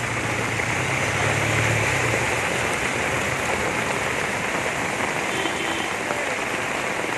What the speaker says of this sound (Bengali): প্রথম কালবৈশাখীতেই বাজিমাত, প্রচুর বৃষ্টি হয়েছে